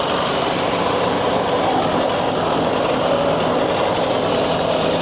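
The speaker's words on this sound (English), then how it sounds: "So I'll clamp that log in there now." A sawmill's hydraulic log clamp, with the log turner broken down and temporarily fixed, runs as a loud, steady mechanical roar throughout, with no voices.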